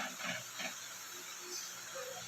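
Galunggong fish fry in hot oil, giving a soft, continuous sizzling hiss with faint crackles, quiet and close, with no talking.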